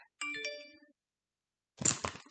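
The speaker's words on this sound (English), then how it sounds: "My phone just went off." A phone notification chime rings out as a short bright tone that decays quickly into silence, then a voice starts talking.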